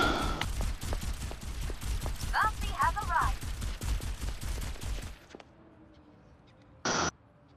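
Rapid gunfire from the video game Overwatch 2 rattles in dense bursts for about five seconds, layered with game effects and a brief tonal blip, then cuts to near silence before a short loud burst of noise.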